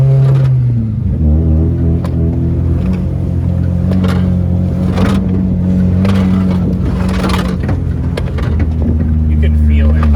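A Mazda Miata with new coilovers drives down a straightaway, its engine drone holding steady and loud with gear changes and shifting pitch, while a person talks over it.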